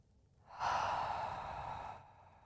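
A slow breath drawn in through the nose followed by a long, steady exhale, close and soft, with no talking.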